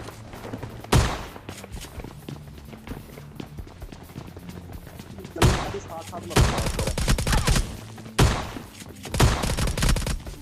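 Shotgun fire in the mobile game PUBG Mobile Lite comes as loud single booming blasts, spaced a second or two apart, with game ambience and footsteps between.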